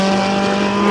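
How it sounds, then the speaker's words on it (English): A McLaren supercar engine at Pembrey Circuit gives a short, loud, steady droning note close by, with no talk over it. "That one needs to clear its throat yet. Yeah, McLaren."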